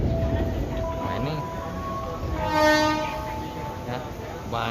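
A KRL Commuterline electric train pulls onto track 1 at a station, its steady rumble swelling as a tonal horn sounds midway, close and fairly loud with no speech.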